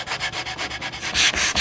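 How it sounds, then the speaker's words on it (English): Sandpaper rubs back and forth along the grain of carved wood in quick, rhythmic strokes, about a dozen close, scratchy passes with the last ones louder and longer; no voices. "I'm sanding with the grain so I don't make any scratches going cross grain"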